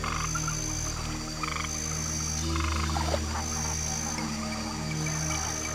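An alligator bellows in a Florida swamp, a sustained low, rumbling croak that stays loud and fairly close throughout.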